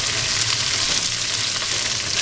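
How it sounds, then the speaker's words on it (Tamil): Chopped onions and curry leaves fry in hot oil, a dense, steady hiss and crackle that fills the clip, close and constant, with no voices over it. "நான் வெங்காயத்தையும் கருவேப்பிலையும் போட்டுக்கிறேன்."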